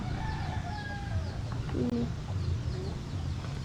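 Gamecock stags cluck and call softly in a pen, with a short crow-like note and faint cooing from nearby doves against a steady low background hum.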